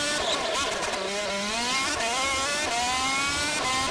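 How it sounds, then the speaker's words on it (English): High-revving race car engine in the Forza racing game, a buzzy nitro RC-car-like whine rising and falling through gear changes, loud and continuous throughout. "Sounds like one of those nitro-powered RC cars."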